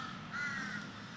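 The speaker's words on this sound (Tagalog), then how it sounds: "uwak" A single crow caws once, a harsh, slightly rising call from fairly close, set against a quiet background hum with no talking.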